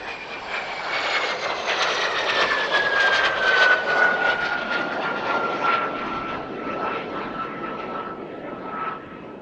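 A Morane-Saulnier MS-760 Paris light jet flies past at the Paris-Villaroche airshow, a loud, sustained jet roar with a descending whine as it passes and slowly recedes.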